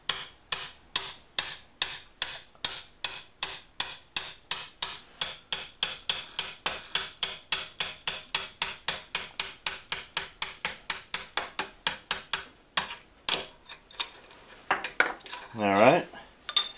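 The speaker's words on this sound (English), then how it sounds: "So I'm gonna get a punch and we're gonna drive it back the other direction there." Hammer driving a 3/8 inch punch through metal, a long run of sharp, evenly paced metallic strikes, loud and close, that slows and stops, followed by a brief faint rising scrape.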